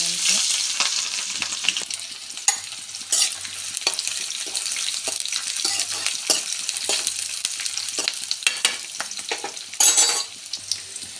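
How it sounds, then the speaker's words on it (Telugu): Mustard seeds, cumin and curry leaves sizzle in hot oil for an eggplant fry, a close, crackling hiss with scattered sharp pops and stirring scrapes. A louder burst rises near the end. "ఆయిల్ వేడెక్కిన తర్వాత కొద్దిగా ఆవాలు కొద్దిగా జీలకర్ర కొద్దిగా కరివేపాకు కట్ చేసి పెట్టుకున్నాను"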